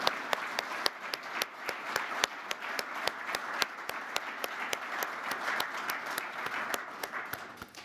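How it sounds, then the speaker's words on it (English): An audience at the 2023 Bushnell Cup presentation applauds the Defensive Player of the Year finalists, with sustained clapping from a crowd and sharper individual claps standing out in a brisk, fairly even rhythm. "Let's all give a big round of applause for our Defensive Player of the Year finalists."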